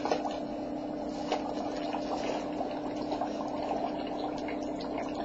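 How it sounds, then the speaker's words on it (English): Dry ice pieces in warm water give a steady, dense bubbling and fizzing like a rolling boil, continuous and fairly close, with a faint constant hum beneath. "I'm going to take some pieces of the dry ice and put them in the warm water"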